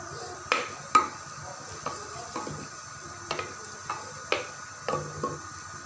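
Onions dropped into hot cooking oil and stirred in a pan, with a few distinct scrapes and clinks of a spoon against the metal every second or so over a soft, steady sizzle.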